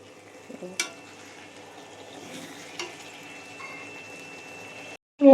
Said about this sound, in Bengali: এবার ভালোভাবে কষে মাছগুলো দিয়ে দেবো মানে মাংসর মতো করে কষ করি আমি